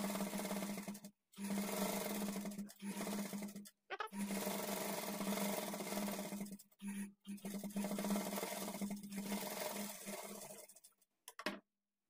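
A sewing machine stitches blouse lining in long, steady whirring runs broken by several short pauses, close and fairly quiet, with no talking.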